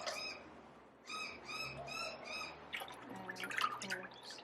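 Near a papermaking setup with water and pulp, a bird calls nearby in repeated bright chirping phrases, fairly clear against quiet background noise, with splashing and dripping water in the later part.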